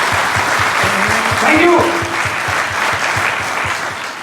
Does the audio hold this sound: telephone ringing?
no